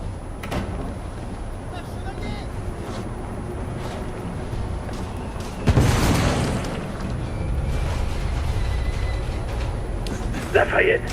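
A low boom hits an airship in the video game The Order: 1886, a broadband burst about midway with a rumbling tail, set against steady background noise; voices talk around it.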